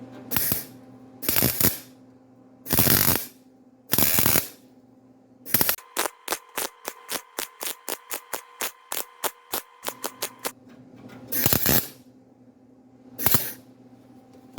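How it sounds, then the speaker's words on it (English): Welding on sheet metal at a car's firewall: bursts of harsh crackling arc, first several longer bursts, then a rapid series of short regular stitch welds, then a few more bursts, loud and close with no talk. "that's how I weld sheet metal on this side"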